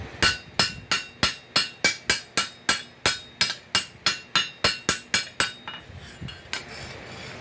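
Steady ringing hammer blows strike a hoe being forged from pipe, flattening and beveling the metal, about twenty evenly spaced loud metallic hits before fading into quieter scraping.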